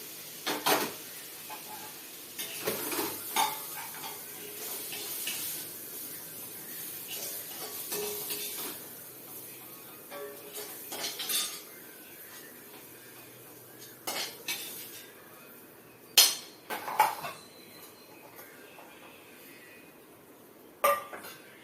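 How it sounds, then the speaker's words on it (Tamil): A spoon clinks and scrapes against a pan and serving dish as cabbage chana dal coconut curry is moved over, scattered metallic taps and knocks over faint kitchen background, no speech. "ஆஃப் பண்ணிவிட்டு இதை வந்து நம்ம இப்போ சர்விங் டிஷ்ஷுக்கு மாற்ற போகிறோம்"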